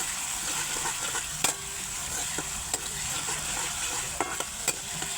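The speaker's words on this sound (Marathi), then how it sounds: "त्याच्यामुळे ही तेलात चांगलं भाजून घेते." Green chillies, garlic and cumin fry in oil, a continuous close sizzle with occasional sharp clicks and taps of a spoon against the pan, no voices.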